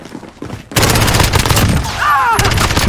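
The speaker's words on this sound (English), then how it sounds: "The last submachine gun you unlock is the MP7." MP7 submachine gun in Call of Duty: Modern Warfare firing at a very fast rate, a loud, dense rattling burst that starts abruptly after a quieter moment and runs continuously to the end, with faint shell clinks.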